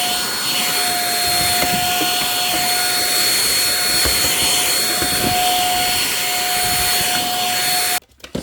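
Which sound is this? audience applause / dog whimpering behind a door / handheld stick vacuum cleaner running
handheld stick vacuum cleaner running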